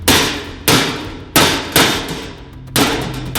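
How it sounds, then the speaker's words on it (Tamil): A hammer knocks early in the morning in a Tamil film scene, five loud, sharp blows in an uneven rhythm, each ringing briefly before the next strike, with no talking. "டொக்கு டொக்குன்னு சத்தம் வருதுன்னா அப்படிதான் வரும்"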